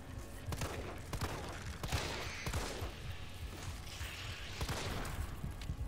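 Gunfire in Resident Evil 3 comes as a series of sharp, fairly quiet shots spaced irregularly over mechanical game noise, with no voices.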